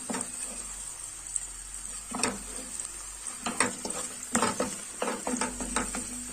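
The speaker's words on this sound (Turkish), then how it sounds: "Bakın salça attım içine." Steady sizzling of tomato paste frying in a hot pot, with intermittent scraping and stirring clatters from a utensil against the metal.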